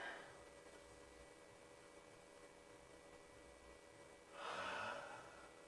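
One sharp intake of breath, close and brief, near the end of an otherwise quiet stretch with low hum, taken while learning a clowning technique, no voices.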